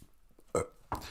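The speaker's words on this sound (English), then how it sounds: "It's giving me the burps." Two short, loud burps sound close up in quick succession, brought on by probiotic tea, with a quiet pause between them.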